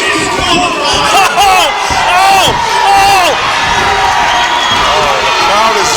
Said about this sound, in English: The crowd is very upset.